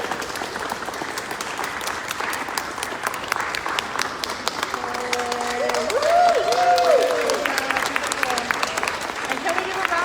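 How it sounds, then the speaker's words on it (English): Audience at an art gallery show in a San Francisco arts space clapping for the exhibiting artists, sustained crowd applause with a few cheers and whoops rising midway, a voice speaking briefly over it. "Let's give them a big hand."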